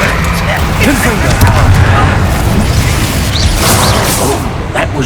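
Booming Confringo explosion spell blasts in Hogwarts Legacy, set in a dense, continuous wash of game effects and rumbling impacts that stays loud throughout.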